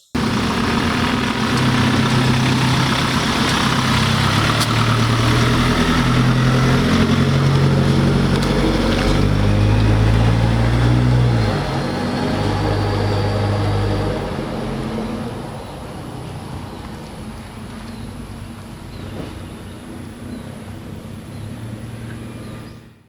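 2023 Ford Ranger Wildtrak 4x4 fitted with an HKS exhaust and 10-speed automatic, its engine droning loudly and steadily while driving, pitch shifting through gears before easing to a quieter, lower rumble.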